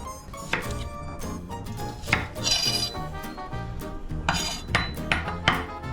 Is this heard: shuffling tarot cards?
no